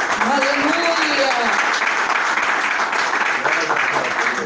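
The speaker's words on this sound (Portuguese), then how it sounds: "vamos exaltar o Senhor com palmas bem forte para Jesus" A church congregation claps hands loudly and steadily in praise of Jesus, continuous dense clapping with voices rising under and over it.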